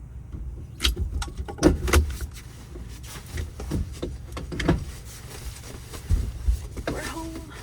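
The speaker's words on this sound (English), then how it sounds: "I have to grab my keys." Keys jangle as they are grabbed, bright metallic rattles in short bursts scattered among thumps and rustles, with a person talking nearby and a vehicle setting audible in the background.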